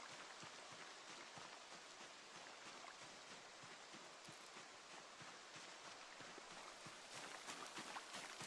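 Soft, steady video game rain patters on a surface, faint and continuous, with scattered individual drops ticking through it.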